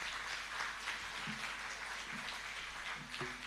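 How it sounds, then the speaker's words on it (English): Steady crackling applause at a modest level from an audience at a Bharatanatyam dance recital, a dense patter of clapping throughout with no voices. "Give her a big round of applause."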